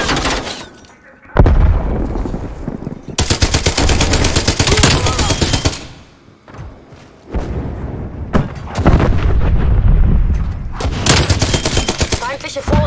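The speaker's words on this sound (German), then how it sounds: "Feindliches Geschütz im Einsatzgebiet entdeckt." Heavy gunfire and artillery in the shooter game Call of Duty: Black Ops Cold War, loud bursts of rapid machine-gun fire and booms in long stretches separated by short quieter gaps, with a voice speaking at times.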